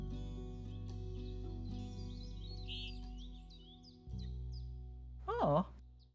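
A Tui bird call in the Wingspan board video game: a short, bright, warbling burst of chirps near the end, over a steady low musical drone with faint twittering earlier.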